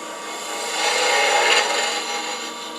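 A lathe tool makes an entry cut into spinning boxwood, a continuous close scraping hiss that swells slightly in the middle and holds steady throughout.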